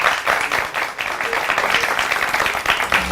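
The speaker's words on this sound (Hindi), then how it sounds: "बहुत सारी तालियां होनी चाहिए" A studio audience on a morning television show applauds the wrestler Badshah Pehlwan Khan, loud, dense clapping that carries on steadily from start to finish.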